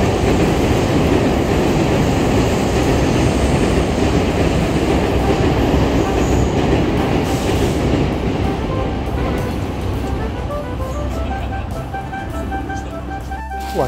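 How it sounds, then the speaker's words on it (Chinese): Two electric trains pass each other at Shōhei Bridge, an arched bridge in Akihabara, Tokyo: a loud, steady rumble of wheels and cars with rhythmic clatter and squeals toward the end. "很幸运的也是看到2台电车正好交错"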